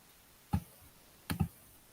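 Two quick computer mouse clicks, a single click followed by a tight double-click, close and crisp against a quiet room during a Google Slides office lesson.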